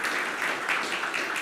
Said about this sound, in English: So you can just give him a big round of applause.